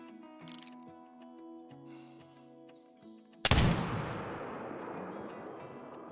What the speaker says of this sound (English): Now we're going to have to hold pretty high for this shot here.